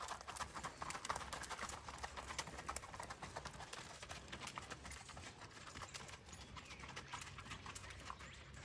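A Rocky Mountain horse gaits with a rapid, even clip-clop of hooves, faint and somewhat distant over steady outdoor noise, with the rhythm continuing throughout.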